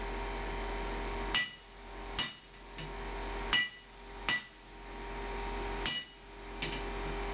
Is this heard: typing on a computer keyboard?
no